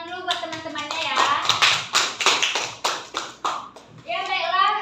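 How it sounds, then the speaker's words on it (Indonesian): Schoolchildren in a chemistry classroom clap for their classmates, a few quick rounds of hand claps mixed with chatter and a teacher's voice before and after. "beri tepuk tangan dulu buat teman-temannya ya"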